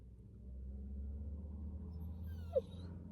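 A dog gives a brief high whimper near the end over a steady low engine rumble, as from inside a moving car; the rest is only the vehicle's drone.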